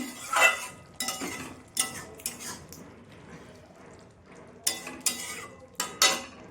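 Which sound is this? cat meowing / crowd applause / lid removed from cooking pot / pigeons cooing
lid removed from cooking pot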